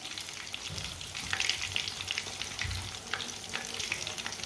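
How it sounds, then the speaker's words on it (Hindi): Fish fries in oil in a pan, with a close, continuous crackling sizzle broken by sharper pops and a few low, dull knocks, and no voices. "ये बहुत ही आसान तरीका है मच्छी फ्राई करने का"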